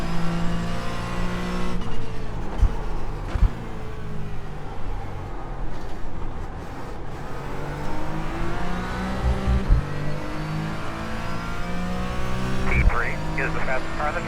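Race cars in the iRacing ROAR special event, including a BMW and prototypes, roar continuously around the track with engine drones rising and falling as cars pass, under steady commentary.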